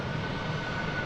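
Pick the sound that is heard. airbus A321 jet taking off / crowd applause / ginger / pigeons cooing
airbus A321 jet taking off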